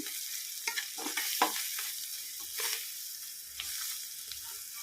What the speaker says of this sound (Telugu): కారం వేస్తున్నా, 1 చెంచా, రుచికి తగ్గినంత ఉప్పు, ఇవన్నీ వేసుకొని కలిపేసుకోవాలి మంచిగా